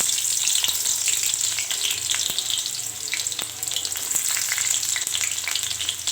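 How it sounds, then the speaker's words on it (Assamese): Onions frying in about a tablespoon and a half of oil in a pan for an okra dish, a steady close sizzle with scattered stirring clicks and scrapes throughout. "তাৰপিছত পিঁয়াজখিনি ৰঙা হোৱালৈকে ভাজি ল'ম।"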